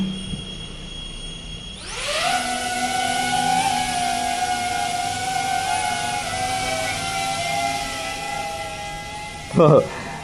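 DJI Avata 2 drone motors spin up with a rising whine, then hold a steady, loud high-pitched hum for several seconds, ending with a short bump.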